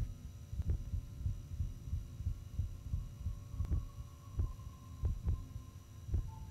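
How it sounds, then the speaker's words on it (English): A steady heartbeat in a Backrooms horror video game, with slow repeated thumps over a low droning hum and no talking. "Heartbeat."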